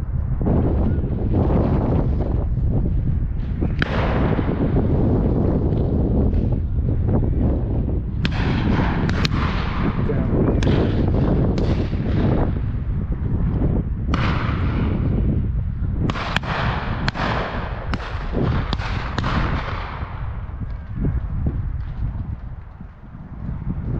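Shotguns fired on a beaters' day game shoot: a few heavy, booming reports spaced seconds apart, buried in constant loud wind buffeting the microphone outdoors.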